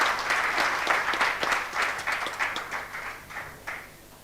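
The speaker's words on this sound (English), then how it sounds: "another round of applause for this group" An audience applauds a conference panel of football officials, including representatives of FIFA and CAF, with dense clapping that swells early and then tapers off over a few seconds.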